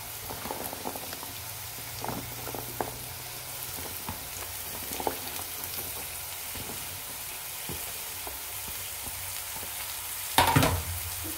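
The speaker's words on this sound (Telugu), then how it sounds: "ఇప్పుడైతే ఇంకా మనం సోరకాయ ముక్కలు అయితే వేసేసుకుందాం, కట్ చేసి పెట్టుకున్నాం కదా" Bottle gourd pieces frying in a pan for a curry, a quiet steady sizzle with scattered light clinks and scrapes of stirring, and one louder scrape near the end.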